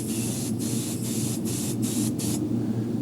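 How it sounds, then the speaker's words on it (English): An airbrush sprays green paint onto a taxidermy largemouth bass, producing a close, steady hiss broken into about five short bursts with brief pauses, then stopping before the end. "Just a matter of a few seconds of spraying"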